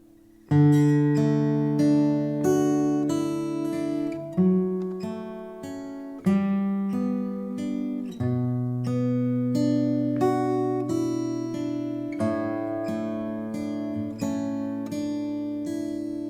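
A gentle sequence of sustained piano chords played slowly, each ringing and fading before the next, with a soft lullaby feel.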